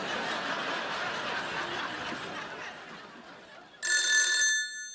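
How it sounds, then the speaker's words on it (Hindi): Audience laughter and chatter fill the room, then a telephone ring tone cuts in loudly near the end, steady and bright for about a second before fading. "एक मिनट रुको, मैं फोन लगाता हूँ।"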